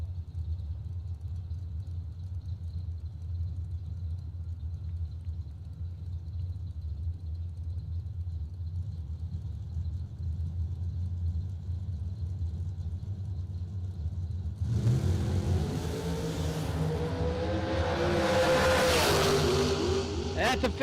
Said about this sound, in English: Leah Hughes got a fast dragster on the left side.